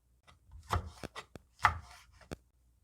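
A red chilli sliced diagonally with a knife on a cutting board: about half a dozen separate crisp chops and scrapes, close and fairly quiet, spaced irregularly with short pauses between them.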